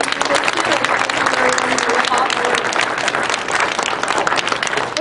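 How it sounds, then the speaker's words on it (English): An audience applauds at a presentation on Canada 150 unity in diversity workshops in Toronto, sustained loud dense clapping from many hands filling the room, steady throughout with faint voices mixed in. "can we just have another big applause for Mr."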